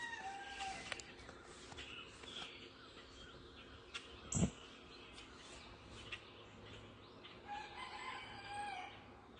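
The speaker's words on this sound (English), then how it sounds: "I will cut out the rooster sounds though" Rooster crowing at sunrise outdoors, one faint distant crow amid low ambient morning noise and scattered soft chirps, no talk.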